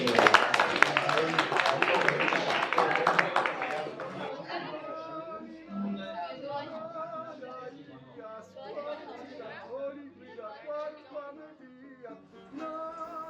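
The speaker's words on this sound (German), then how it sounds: "Also vielen Dank, einen Applaus." A crowd claps after a talk during a documentary about Georgia, a dense burst of applause lasting about four seconds before it fades into murmuring chatter and voices.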